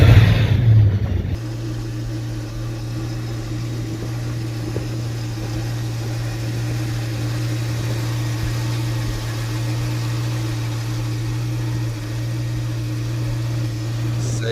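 A Dodge Charger R/T V8 engine idles with a steady, deep, even hum that holds near and constant for more than ten seconds after a brief louder start.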